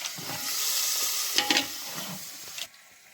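Loud sizzling of peas dropped into hot tempering oil, a continuous frying hiss with a few sharper spits and stirring scrapes before it quiets abruptly.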